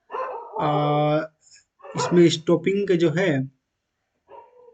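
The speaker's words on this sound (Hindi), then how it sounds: "अब देखिए रात में कुत्ता ही भौंक रहा है" A dog barks at night close to someone talking, with a sustained bark-like yelp at the start before his speech takes over, a faint sound trailing at the end.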